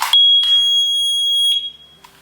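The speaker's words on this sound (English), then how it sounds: "if you do not like high-pitched noises, cover your ears right now because it's about to go off. I just want you to hear how loud it is." A home smoke alarm sounds a loud, piercing high-pitched beep in two bursts: a short chirp, then a sustained tone lasting over a second before cutting off, with little else around it.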